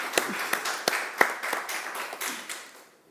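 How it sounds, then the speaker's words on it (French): Sparse, scattered hand clapping from a small audience at a broadcast music performance, individual claps distinct and irregular, moderately close, fading out at the end. "Merci pour les applaudissements du public"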